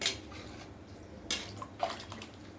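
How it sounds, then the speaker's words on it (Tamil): Water is poured into a cooker holding rice and then stirred. The sound is faint, with soft splashes and a few brief scraping knocks against a quiet background. "தண்ணி ஊற்றிட்டு நல்லா கலக்கி விட போகிறோம்."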